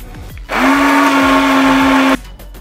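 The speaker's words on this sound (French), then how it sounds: "Je vais donner un coup de mixeur plongeant pour bien homogénéiser la crème." An immersion blender mixes lemon cream with its head held at the bottom of the container, giving one loud, steady, high whirring run of about a second and a half, starting and stopping abruptly.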